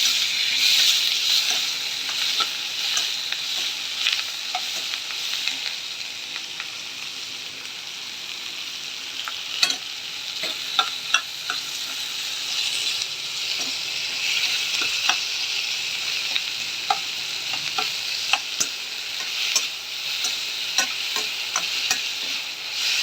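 Curry leaves sizzle steadily in hot oil while being stirred for okra sambar, with scattered sharp scrapes and clicks of the spoon against the pan, close and alone.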